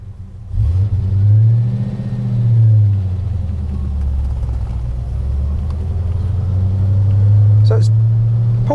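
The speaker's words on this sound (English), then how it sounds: "straight away it sounds like a true V8." A 1963 Studebaker V8 with a three-speed manual pulls away on an open road, its deep engine rumble loud and steady, rising and swelling as it accelerates in a low first gear.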